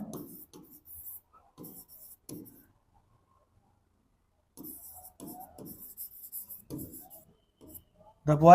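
Chalk or marker writing on a classroom board during a grammar lesson, heard as scattered short scratchy strokes in bursts separated by silence, with a loud sound at the very end.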